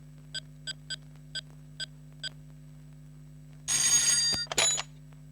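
A telephone rings in a movie scene: six short, evenly spaced electronic beeps over a steady low hum, followed by a louder burst of noisy handling and clatter near the end, with no voices.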